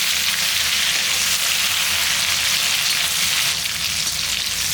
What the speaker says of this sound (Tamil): மசாலாலாம் தடவி வச்சு இப்போ ஒவ்வொன்றா எடுத்து பொரிச்சு எடுத்துக்கலாம்